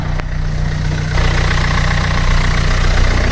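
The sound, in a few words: car engine idling with auxiliary belt clatter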